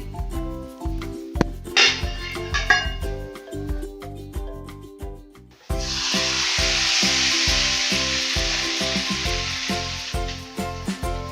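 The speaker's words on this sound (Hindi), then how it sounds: "अब मैं ये तड़का लगा रही हूँ साग पे।" Loud, steady sizzling bursts out as hot garlic tempering in oil is poured onto saag and keeps hissing for several seconds, over a repeating musical background and without talk.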